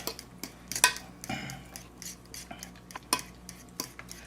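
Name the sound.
whipping seafood dressing stuffing together in a bowl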